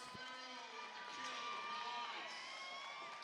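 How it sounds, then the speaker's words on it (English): Crowd cheering in a field house during a late-fourth-set boys high school volleyball match, a steady wash of shouts and cheers with some squeaks, fairly distant and continuous. "The crowd getting loud here in the field house."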